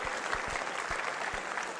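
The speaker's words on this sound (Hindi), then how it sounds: "जोरदार ताली बजाइए" Audience at a school quiz show applauding a contestant, a dense sustained wave of clapping with a few sharper claps standing out near the front.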